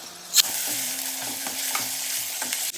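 Cardamom, cloves and a piece of cinnamon sauté in hot oil before crab is added, giving a steady close sizzle broken by a sharp clatter near the start and repeated light scraping stirs.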